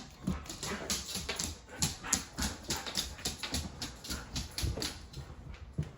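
A dog whimpers and whines excitedly in short bursts, with scrabbling movement and paws tapping on a hard floor throughout.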